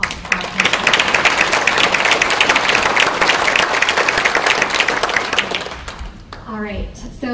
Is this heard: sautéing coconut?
no